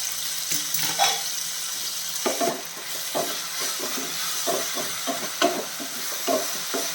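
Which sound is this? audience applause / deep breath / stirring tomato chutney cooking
stirring tomato chutney cooking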